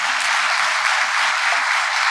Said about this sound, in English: So a round of applause here as well.